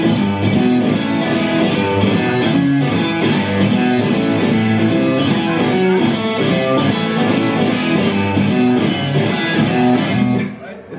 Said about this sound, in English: It's got that killer Stratty neck pickup thing